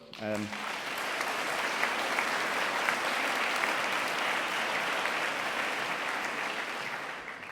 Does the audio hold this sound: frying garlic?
no